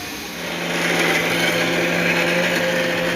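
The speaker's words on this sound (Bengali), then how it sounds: "মিক্সার সবজি কাটাকাটি হচ্ছে এখানে।" An electric mixer grinder chopping vegetables in a home kitchen runs at full speed, a loud, steady whirring drone that rises quickly and holds for a few seconds.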